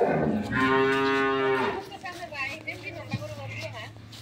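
A dairy cow, about six teeth in age, lets out one long, loud, close moo at an agro farm in Setabganj, followed by quieter farmyard background and people talking.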